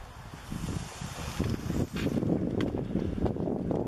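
Wind gusts buffet the microphone on a paved walking trail in Sitka, Alaska, a steady close rumble of low roaring with a brief dip midway.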